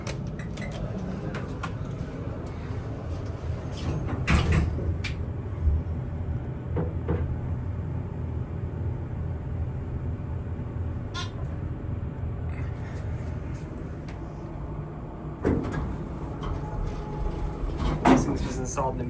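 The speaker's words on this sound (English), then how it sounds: "Dover made one of the best hydraulic elevators." A mid-1990s Dover hydraulic elevator running, with a steady low hum and rumble, scattered clunks and a door-like thud or two, while a person talks over it.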